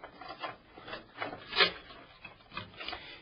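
Motherboard power supply cables and connectors being fed through a computer case, producing a series of close, rhythmic rubbing and scraping sounds.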